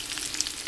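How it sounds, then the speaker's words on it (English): Sausage sizzling in a frying pan, a continuous bright hiss and crackle of hot fat, steady and close with no talking. "I'm just going to cook the sausage separate so they get brown"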